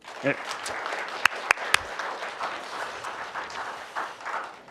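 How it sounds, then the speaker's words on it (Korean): Audience applause closing a policy forum, a moderate, steady patter of clapping with a few sharp louder claps early on and a brief voice at the start. "마지막으로 큰 박수 보내주십시오."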